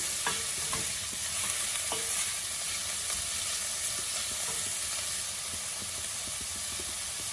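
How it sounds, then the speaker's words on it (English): Food sautéing in a pan over medium heat for a sem bean and dried shrimp curry, with a steady, loud hiss of sizzling and occasional stirring scrapes throughout, no voices. "I'm going to let that saute for a little bit and get golden brown."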